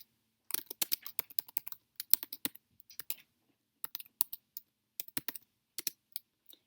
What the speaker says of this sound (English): I'm going to type recipe modified